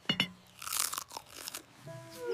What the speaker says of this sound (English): This carrot is sweet and crunchy.